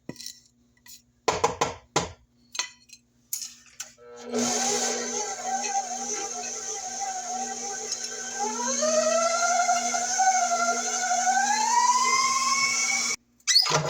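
Several sharp clinks and knocks come first, then an electric mixer creams pound cake batter with cream cheese, a steady whirring whine that climbs in pitch as it speeds up, close and without talk.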